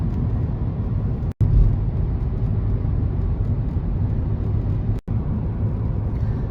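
Steady, loud road rumble and engine drone from inside a car driving on the Brenner motorway through the Alps, continuous throughout with two brief dropouts.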